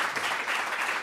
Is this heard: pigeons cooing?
no